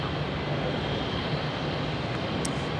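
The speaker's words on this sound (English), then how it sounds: "our Velocity 819 service to Sydney now cleared for takeoff" A Velocity airliner on its takeoff roll at Melbourne airport, a steady heavy jet engine roar filling the short stretch, distant and unbroken.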